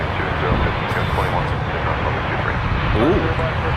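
A Boeing Dreamliner's jet engines at Toronto Pearson airport give a steady broadband roar that runs throughout at moderate distance, with faint chirps over the rumble.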